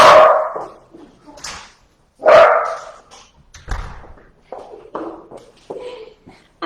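A dog barks loudly and close by in repeated sharp yaps and yelps, with a few short whimpering sounds between the bursts in an indoor home setting.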